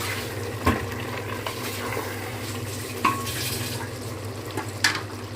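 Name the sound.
stirring kasturi methi into a frying dish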